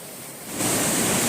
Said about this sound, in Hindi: उस जगह को भी देखा जहां से झरना नीचे की तरफ गिर रहा था।